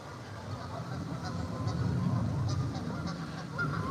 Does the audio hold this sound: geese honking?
yes